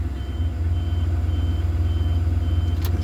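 Enpak welder-generator unit mounted on a 2019 Ford F550 service truck beeping at start-up: faint, steady repeated electronic beeps over a loud low engine drone, with a brief sharp click near the end.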